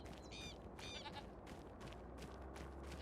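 Goats bleat in a sheep barn in the Farming Simulator 25 game, a few short wavering calls early on over a steady low ambient hum, fairly faint and unaccompanied by talk.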